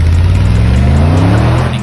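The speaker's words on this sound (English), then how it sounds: "The sound of the AMG exhaust system is unmistakably rich and robust" Mercedes-AMG G63 SUV exhaust revs loudly and close, a deep rich engine drone rising steadily in pitch as it climbs through the revs, then easing off at the end.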